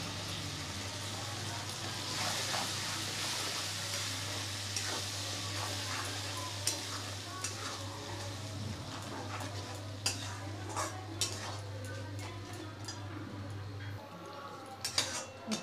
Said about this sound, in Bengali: যেটা এই জলটা না শুকোনো পর্যন্ত আমি মশলাটা ভাজতে থাকবো।